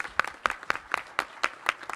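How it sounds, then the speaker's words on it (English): An audience at a fitness, sports and nutrition council meeting claps in a quick, even rhythm of about eight sharp claps, fairly close, with no other sound. "Let's give our young people a great round of applause"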